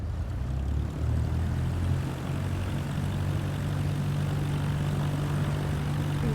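A simulated Cessna piston engine runs at takeoff power in MS Flight Simulator 2024, a loud, steady propeller drone with a constant low hum throughout and no talk.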